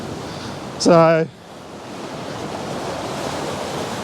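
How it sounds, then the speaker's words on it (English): Water rushes in around rock pools beside a beach cave, a steady broad wash of surf noise that fills the whole clip, with a brief spoken word near the start. "Now you can see the water rushing in here around one of the rock pools."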